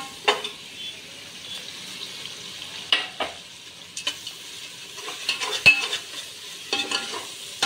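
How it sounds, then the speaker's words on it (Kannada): Onions and spices fry in oil, giving a faint sizzle under repeated scraping and stirring clatter from a spoon against the pan. "ಅದಕ್ಕೆ ನೋಡ್ರಿ ಎಷ್ಟ್ ಚಂದ ಉಳ್ಳಾಗಡ್ಡಿಗ ಫ್ರೈ ಆಗ್ಯಾವ ನೋಡ್ರಿ"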